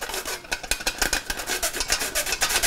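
Dry ingredients for banana bread sifted through a sifter, a quick rhythmic raspy scratching and tapping, close and fairly loud, no talking.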